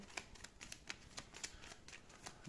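Playing cards for the Unmatched board game being shuffled by hand nearby, a quiet run of rapid riffling flutters and soft taps with no talking.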